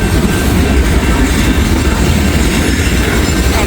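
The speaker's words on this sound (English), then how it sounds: "got a Pan Am boxcar coming." Freight train rolling steadily past close by, a Pan Am boxcar among its cars, with continuous loud wheel rumble and clickety-clack and no voices.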